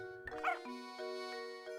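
A dog in the Professor Layton and the Curious Village video game gives a short bark and yip over steady sustained game music, brief and moderately loud before the music carries on alone.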